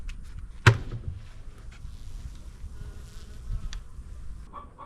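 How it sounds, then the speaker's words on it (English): Honeybees at an opened hive hum faintly and steadily close by, broken once by a sharp knock near the start and a few light clicks. "Here are the bees, pretty healthy."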